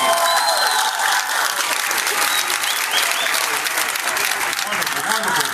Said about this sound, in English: Give me one more hand of applause, you guys.